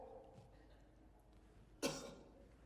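A patient's single short cough during a medical exam, a sharp burst near the end following quiet background murmur.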